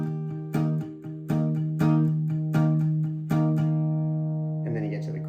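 Acoustic guitar strummed in rhythmic down-strokes, about six bright chord hits ringing out one after another, then left to sustain and decay, with a faint voice entering at the very end.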